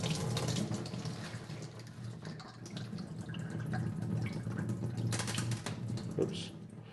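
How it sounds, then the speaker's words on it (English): Water pours steadily out of a rock tumbler barrel holding glass and ceramic media, a continuous close splashing and trickling with faint clinks, no voices. "now I'm going to pour out as much water as I can"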